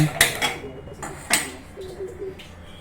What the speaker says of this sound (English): Things not lighting up, just going to light the gas on, and it's on